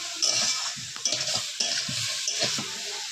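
Pumpkin and potato go into a crab curry after the crab has been cooked down, giving a close, steady hot-oil sizzle broken by repeated scraping stir strokes in the pan.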